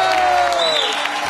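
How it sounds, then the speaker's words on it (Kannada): A studio audience at a TV comedy show claps for a comedy team, a short, fairly loud burst of applause with some cheering, while a voice talks over it. "ಮತ್ತೊಮ್ಮೆ ಜೋರಾಗಿ ಚಪ್ಪಾಳೆ ಹೊಡೆದು ಬಿಡಿ"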